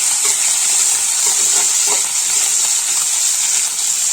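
Ginger and green chillies frying in a pan, a steady, loud hissing sizzle that holds without a break throughout.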